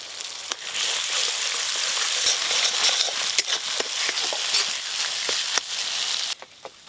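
Spices, tomatoes and mustard-poppy paste sauté in a hot pan with a loud, continuous sizzle, broken by the scrape and clack of stirring before it suddenly quiets.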